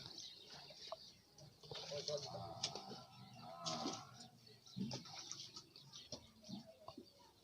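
A buffalo gives a long, low moo close by, with quiet rustling and a few bird chirps around it.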